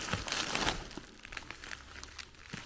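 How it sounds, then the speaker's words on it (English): Cellophane wrap from a seatbelt and buckle set being unwrapped, a close, continuous crackling crinkle that is loudest at first and then eases into softer rustling. "This is the cellophane wrap from 1 belt and 4 buckles."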